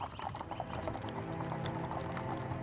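Horses walking with hooves clip-clopping in a steady rhythm, set in a fantasy audio drama. The sound is continuous and moderately close, with a textured background bed and no talk.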